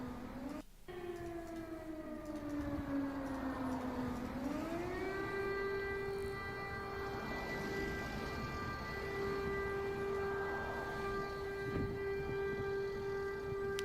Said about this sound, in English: These are some of the air raid sirens going off right now.